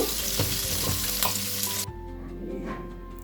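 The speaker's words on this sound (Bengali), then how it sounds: "আরেকটু তেল অ্যাড করে লেগ পিসগুলোকে দিয়ে দিচ্ছি এক পৃষ্ঠা সামান্য ভাজার পর আমি উল্টিয়ে নিচ্ছি অপর পৃষ্ঠও ভাজার জন্য" Chicken leg pieces frying in oil, a loud close sizzle with a few knocks, dropping sharply to a quieter crackle partway through as the heat or lid changes.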